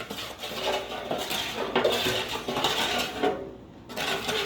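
Chex cereal being tossed with seasoning and Worcestershire sauce in a bowl, producing a steady dry rustling and clattering with scraping, close and fairly loud, without talking.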